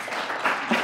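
Lecture hall audience clapping to welcome teaching staff, a short burst of steady, moderately loud applause with a few louder swells.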